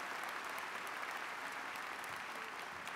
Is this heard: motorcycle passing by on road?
no